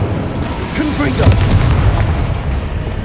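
A Confringo spell explosion in the Hogwarts Legacy video game: a deep, loud boom rumbling under other game sounds and a shouted voice, close and sustained across the moment.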